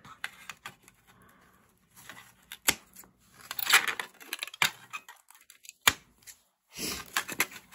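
Small model bulldozer axles being cut off, sharp snipping and crunching clicks scattered irregularly at close range with a few louder snaps, no talking.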